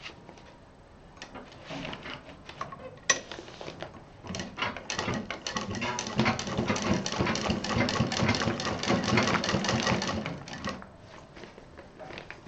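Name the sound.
sewing machine stitching a waterproof apron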